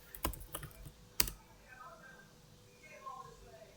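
Gibberish typed on a computer keyboard, a few sharp key clicks and quick taps near the start, then quiet with faint background murmur.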